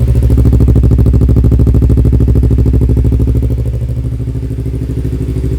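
Yamaha R25 motorcycle idling with a DX Generation aftermarket exhaust, no dB killer fitted: a steady, close, loud low burble with even rapid pulsing that eases slightly toward the end, with no talk.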